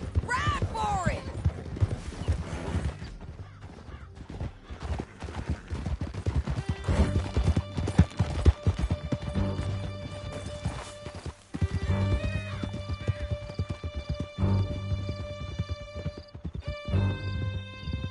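Horses galloping in Red Dead Redemption 2, a steady rush of hoofbeats with sharp whinnies and occasional gunfire, while voices and a rising musical score play over the ride.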